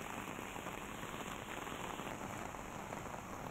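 Heavy rain pours at Harishankar temple in Balangir during flood-like conditions, a dense, steady hiss of downpour close by and unbroken, with no voices.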